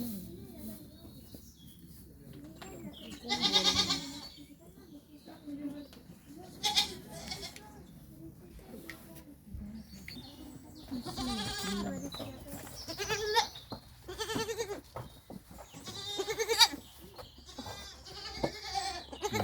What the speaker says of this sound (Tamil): ஒவ்வொரு இன ஆடுகளாக இருக்குது.